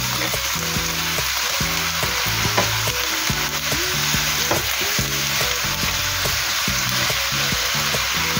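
Cabbage hits a hot frying pan for chow mein, a loud, continuous sizzle with steady stirring and scraping that carries on without pause, close and unbroken, with no voices.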